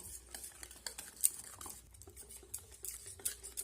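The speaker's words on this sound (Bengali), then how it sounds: "এবারে সুজিটা ভালো করে দুধের সঙ্গে মিশিয়ে নেব।" A spoon stirs semolina into milk in a bowl, making soft, uneven scraping and clinking taps at close range, fairly quiet and without voices.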